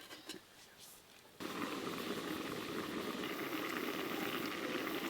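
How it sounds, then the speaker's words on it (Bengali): Long beans covered with a lid in a wok, steaming with a little salt: a steady, loud hiss and bubbling rush starts abruptly after a quieter moment and continues evenly throughout. "এবার চাপা দিয়ে একটু ভালো করে ভাপিয়ে নেব।"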